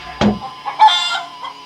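Chickens cluck in a few short calls nearby, brief and fairly quiet against a calm background.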